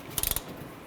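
A ratchet clicks in a quick run of about five crisp pawl clicks as it snugs down a front control arm bolt on a 2009-2015 Honda Pilot, close up, then stops.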